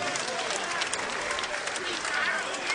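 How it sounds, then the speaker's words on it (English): An arena crowd at a heavyweight boxing bout applauds the two fighters after twelve rounds, a dense wash of clapping and cheering that stays loud throughout, with a voice over it. "how about a round of applause for both of these warriors?"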